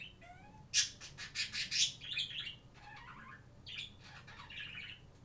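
Harsh bird squawks burst out in repeated bouts, interspersed with chirps and tweets, fairly faint and with no one talking.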